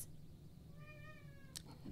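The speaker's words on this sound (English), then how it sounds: "we have some kitties going off in the background" Cats meowing in the background of a home indoors, one drawn-out tonal meow rising and falling at moderate distance over a low steady hum, followed by a short sharp click; no talk.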